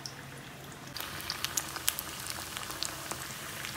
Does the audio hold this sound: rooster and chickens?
no